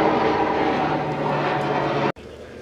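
Steady drone of a propeller airplane passing overhead, loud and constant, then cut off abruptly near the end, leaving quieter background.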